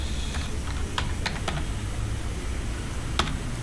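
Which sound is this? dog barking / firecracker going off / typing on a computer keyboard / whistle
typing on a computer keyboard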